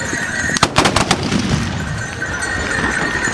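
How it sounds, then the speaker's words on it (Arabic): A ragged volley of traditional rifle shots from horse riders at a fantasia festival in Rabat, Morocco: a tight cluster of sharp, loud cracks, followed by steady outdoor crowd ambience. "كانت هذه طلقة موفقة لسربة المقدم"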